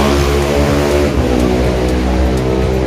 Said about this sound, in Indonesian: Berisik amat tuh motor.